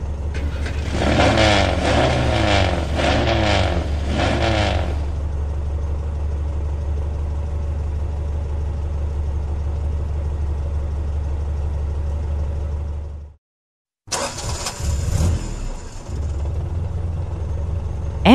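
A car engine revs a few times, then settles into a steady low idle hum before a brief silence and another engine sound.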